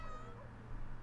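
A cat meows in The Sims 2 life-simulation game, a single short, clear call lasting about a second over a steady low game hum.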